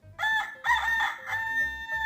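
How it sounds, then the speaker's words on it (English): A rooster crows close by, a bright harmonic cock-a-doodle-doo in several rising and falling segments over about two seconds, with a low hum underneath. "The rooster wakes the farmer in the morning."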